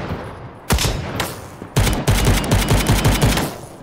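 Gunfire in the browser shooter Krunker.io: two single sharp shots, then a rapid rhythmic burst of about ten close, loud rounds, with no talking.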